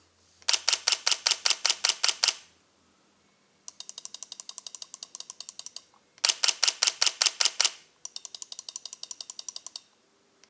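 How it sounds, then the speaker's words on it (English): Mechanical shutter of a Sony A7C II camera firing in rapid bursts, four runs of crisp mechanical clicks, loud and close, with short pauses between bursts and no talking. "how loud the mechanical shutter is"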